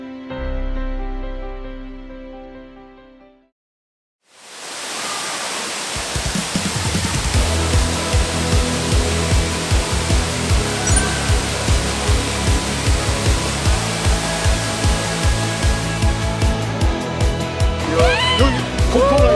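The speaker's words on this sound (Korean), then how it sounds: "이렇게 땅 밑에 이렇게 폭포가 떨어지네" A waterfall pours down into a gorge below ground level at Jaein Falls, making a loud, steady roaring rush. A brief quieter passage with music comes first, then the roar takes over and holds until the end.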